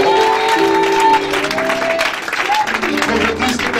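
A church congregation applauds during a French-language Sunday praise and worship service, a loud, steady wash of clapping under sustained voices and musical tones from the crowd.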